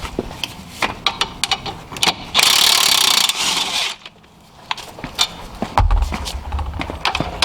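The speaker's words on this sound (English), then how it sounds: "Now I'm gonna use my power tool because it's just faster." A power tool, likely an impact gun, spins off a brake caliper bracket bolt on a Cadillac SRX front brake, a loud broadband burst of about two seconds between scattered clicks and clanks of handling.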